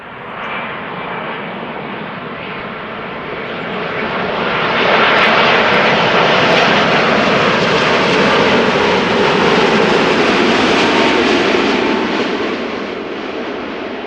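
A two-year-old airliner's engines roar loudly and continuously at Amsterdam Schiphol Airport, swelling to a peak midway before easing slightly, with no talk.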